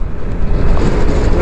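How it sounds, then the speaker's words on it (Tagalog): Strong wind at the Patapat Viaduct, Ilocos Norte, near windmills, buffets the microphone in a loud, continuous low roar that rumbles and gusts without pause. "Grabe, pinapalo ko ng hangin."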